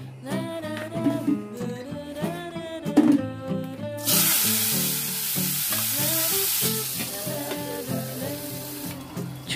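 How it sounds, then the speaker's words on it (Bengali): Pumpkin pieces drop into hot oil tempered with mustard seeds, dried red chilli and green chilli, and a loud, steady sizzle takes over after a few seconds of background music. "চলো এটাই চাপিয়ে দিই কুমড়ো ভাজা, সর্ষে, শুকনো লঙ্কা এবং কাঁচা লঙ্কা ফোড়ন দিয়ে কুমড়োটি ছেড়ে দিলে"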